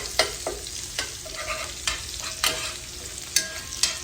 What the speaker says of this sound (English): Got our onions frying and our jalapenos